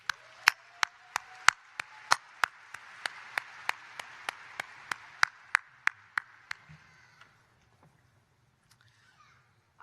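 At an undergraduate commencement ceremony, sharp, evenly spaced claps ring out in a slow steady rhythm, about twenty in all, in a quiet hall, then fade out, leaving near silence.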